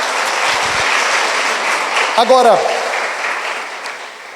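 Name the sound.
congregation giving a loud round of applause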